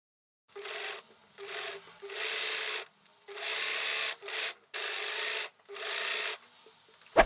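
A sewing machine stitches sleeves onto a wrap top in several steady bursts with brief pauses between them, running close and clear with no talking.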